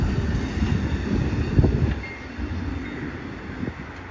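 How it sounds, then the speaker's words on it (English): Amtrak passenger cars of a California Zephyr glide steadily past, a loud rumbling roll with faint wheel clicks and a thin high squeal, easing slightly quieter toward the end. "Sight of those Amtrak cars gliding past never gets old"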